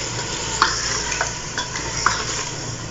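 Mutton korma being stirred and fried in a pot, a steady broadband sizzle with a few sharp spoon scrapes and clicks against the pan, close and moderately loud, no talking.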